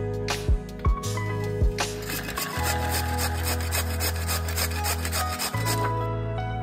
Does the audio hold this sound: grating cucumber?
yes